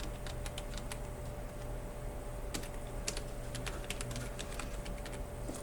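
A computer keyboard clatters with quick, uneven bursts of key presses at close range, fairly quiet and steady with no speech over it.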